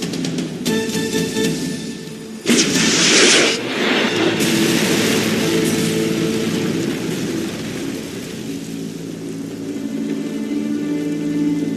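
A loud burst at about 2.5 seconds, followed by dense, sustained noise, after a car's tyres are shot out; steady rumbling and hiss continue to the end.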